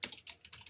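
Several quick keystrokes on a computer keyboard, faint and close, tapped in a short irregular run while saving a Photoshop file.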